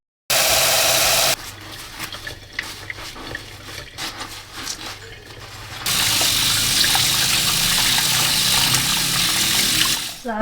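Tap water gushes steadily into a bowl of rice set to soak, a loud continuous rush that drops to a quieter, uneven trickle before surging full again, with no talk over it.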